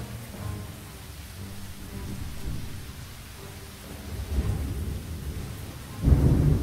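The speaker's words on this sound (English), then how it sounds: "If it doesn't stop raining, this barrel is going to overflow." Steady rain pours with low rolling thunder in the video game Lost Horizon, the rumble swelling near the middle and cracking louder at the end, with no voices.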